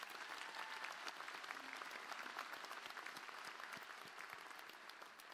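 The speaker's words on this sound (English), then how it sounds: "Please join me in one more round of applause for both of our Teaching Excellence winners" A commencement audience gives a steady, continuous round of applause for teaching excellence winners, a dense wash of many hands clapping from a distance that holds even throughout.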